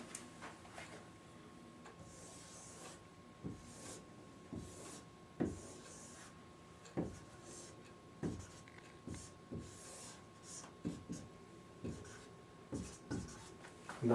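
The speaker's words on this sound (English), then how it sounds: "So let's draw the cylinder." Chalk drawing a cylinder on a blackboard: quiet, close scratches and taps in short strokes with pauses between them, alone at low level.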